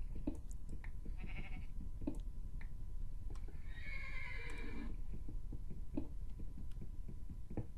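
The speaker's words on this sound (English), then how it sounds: "All I hear is horses." Horses neigh and whinny in the Minecraft video game, a drawn-out whinny standing out over clip-clopping hooves and steady game ambience, with other short calls scattered around it.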